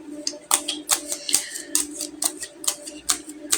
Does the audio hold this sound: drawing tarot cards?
yes